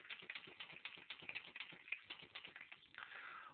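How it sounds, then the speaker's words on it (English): Rapid typing on a computer keyboard, a dense run of quiet, close key clicks in uneven bursts with no voices. "So I'm going to type that in now."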